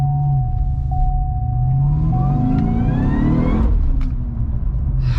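A Cadillac CTS-V with its exhaust back to stock is revved at full throttle, its low engine rumble climbing steadily in pitch as it accelerates, loud and close with no talking.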